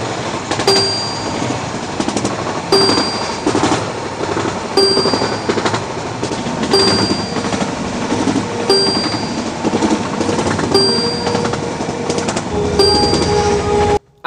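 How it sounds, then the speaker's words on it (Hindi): Simulated train running over its track too fast in a railway video game, a steady loud rolling rumble with sharp periodic clicks from the rail joints every couple of seconds, heard alone without talk. "थोड़ा ओवर स्पीडिंग करने दो और एक बार तुम लोग ये वाला ट्रैक साउंड सुनो"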